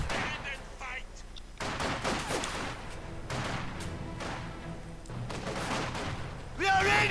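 Company of Heroes 2 battle between conscripts and grenadiers, with repeated bursts of rifle and machine-gun fire in uneven clusters alongside explosion-like crashes; a commentator talks over the fighting.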